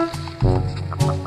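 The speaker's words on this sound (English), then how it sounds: "Rock Ptarmigan." A rock ptarmigan gives harsh, croaking call notes that repeat in short bursts, close and fairly loud, with no talking over them.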